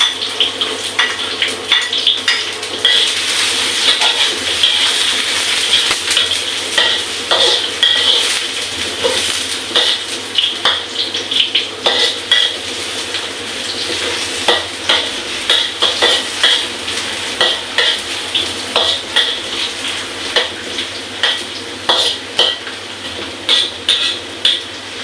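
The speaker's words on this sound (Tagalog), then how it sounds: "medyo magbabrown na yung bawang" Garlic sizzles steadily in a pan for a home-cooked mung bean and chicken dish, with frequent close scrapes and clinks of a utensil stirring it throughout.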